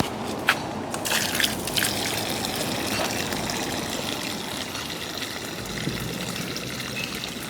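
Water trickles and splashes steadily from a public fountain in a Czech park, a continuous close watery patter with a few brief louder splashes near the start and no talk.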